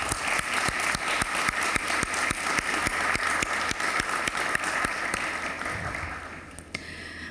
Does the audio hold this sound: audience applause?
yes